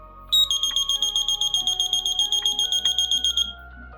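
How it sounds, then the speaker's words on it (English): A rapid, high-pitched electronic beeping from a buzzer in a light-sensor alarm circuit pulses steadily for about three seconds, loud and close, then cuts off. "the buzzer will start beeping"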